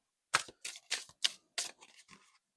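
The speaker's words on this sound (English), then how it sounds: "I'm going to give a shuffle here." A deck of advice cards is shuffled close up in several quick, crisp bursts of papery slaps and riffles, with short gaps between them and no voices.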